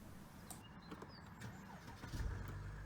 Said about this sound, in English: so now we can go inside the Mercedes S Class and hit that start button.